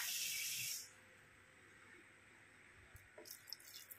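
Water pours into a pan of rabbitfish and olive oil during braising, a loud rushing splash for under a second that then drops to a quiet simmer with a few faint clinks.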